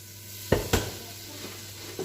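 Butter sizzles and foams in a pan with a soft steady crackle, broken by a couple of sharp clinks of a utensil against the pan and a few fainter taps.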